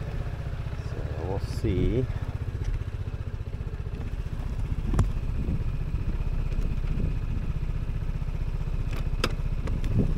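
Vespa GTS 300 scooter engine running in chilly mid-40s weather, a steady close low idle throughout, with someone speaking briefly over it.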